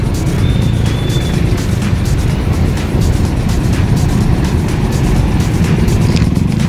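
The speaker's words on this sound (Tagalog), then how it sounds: "Traffic na talaga dito guys." Congested road traffic in Lapu-Lapu City, slowed by roadworks, makes a steady, loud rumble of car and motorcycle engines that continues without a break, with no voices.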